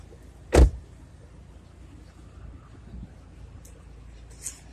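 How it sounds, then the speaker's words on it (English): Power trunk on a 2018 Kia Optima SXL Turbo: a sharp thump of the latch releasing, then a quiet low motor hum and a faint click as the lid rises. "Let's push the button and open that trunk."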